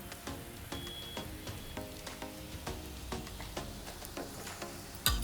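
Takla wild greens dropped into a hot frying pan, giving a steady close sizzle and crackle with small ticking pops throughout and a sharper clatter at the end.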